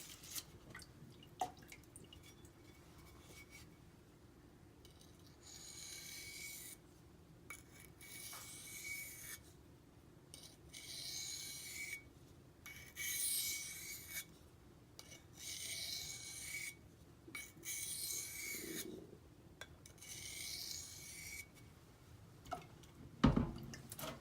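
A knife is sharpened on an Imanishi Latte 400 grit whetstone with water, giving steady rhythmic rasping strokes broken by brief pauses and a faint drip, close and fairly quiet throughout.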